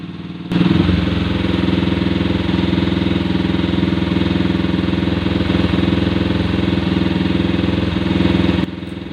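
A motorcycle engine starts up and idles fast and steady at a raised idle while its carburetor is tuned, a loud, close, continuous chugging drone that stops abruptly near the end.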